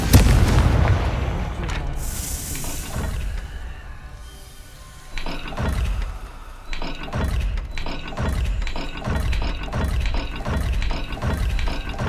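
In the Hogwarts Legacy video game, a Confringo blasting spell lands as a heavy, booming explosion, followed by a run of rhythmic mechanical thuds and clanks with no talking.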